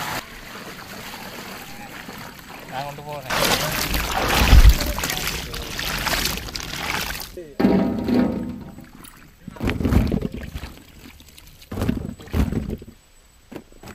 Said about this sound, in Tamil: ஊத்து எல்லாத்தையும் ஊத்து.